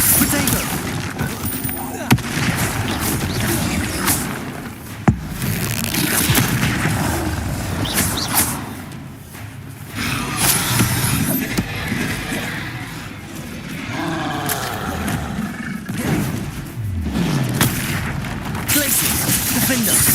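Bombarda spell explosions in Hogwarts Legacy, booming blasts and sharp bursts repeating through a busy battle soundscape, with a voice shouting spell names over the action.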